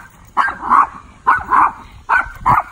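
A three-year-old Maltese barks in three sharp, close bursts, each a quick double yap, evenly spaced with brief pauses between.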